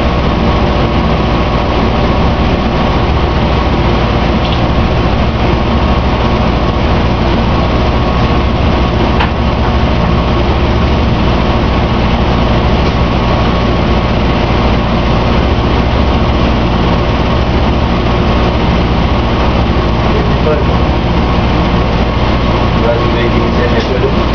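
An HVAC compressor during a repair, a loud, constant low engine-like drone that runs without a break, with people talking over it.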